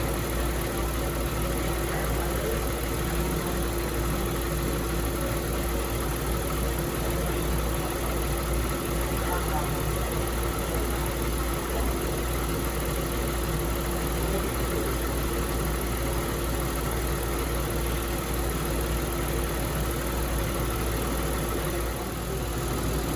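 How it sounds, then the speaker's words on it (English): A Buick Lucerne engine idles as it warms up to temperature, a steady, even mid-pitched hum that runs unbroken and alone for the whole stretch. "Here we have the car idling up to temp"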